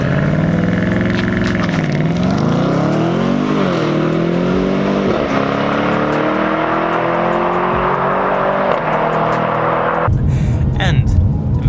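A BMW M850i accelerates hard from a standstill toward 100 km/h. The engine roar climbs through several gearshifts, loud from inside the cabin, and a voice speaks over it near the end.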